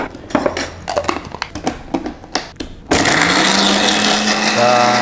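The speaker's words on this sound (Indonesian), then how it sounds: "Ini kita haluskan saja langsung dengan air ya" A kitchen blender grinds star anise, ginger and chili with water. A few clattering knocks of loading come first, then the motor starts a continuous loud whirring grind that climbs slightly in pitch as it runs.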